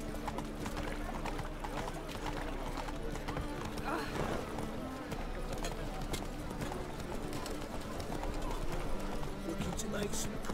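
Horse galloping in The Witcher 3, steady rapid hoof clip-clop running continuously at close range over a dense game soundtrack, with an occasional whinny.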